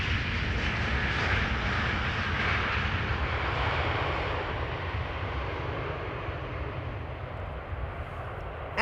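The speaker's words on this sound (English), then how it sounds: "And a KLM 737 flying parallel to it," A KLM Boeing 737 airliner flies alongside the center runway at Amsterdam Schiphol, its engines making a loud, steady roar that fades slowly over several seconds.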